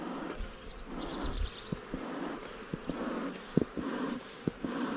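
Angry honeybees pour out of a hive being robbed, a dense buzzing drone close by with rising and falling whines as individual bees fly past, plus a few soft thumps.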